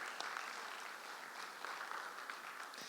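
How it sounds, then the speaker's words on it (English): Conference audience at a CEO summit gives a round of applause, a soft, distant patter of many hands clapping steadily, with no voices over it. "Ladies and gentlemen, a round of applause."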